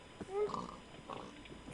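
A pig in the Minecraft game TrollCraft gives a couple of short, faint grunts, a low oink followed by a second muffled snort, over a quiet background.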